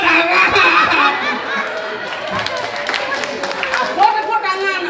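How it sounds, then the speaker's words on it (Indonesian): Balinese drama gong audience clapping and laughing together, a dense crowd wash of applause and chuckles under which voices chatter. "Tepuk tangan."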